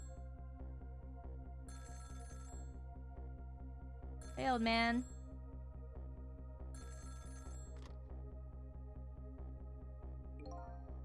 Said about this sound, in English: About 2 hours before dawn, the phone rang.